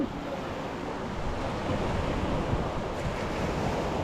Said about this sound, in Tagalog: Tayo pa rin dito sa may tabing dagat.